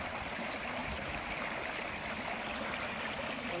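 Water flows steadily in a farm stream after rain, a constant broad rushing and gurgling with no pauses and no voices.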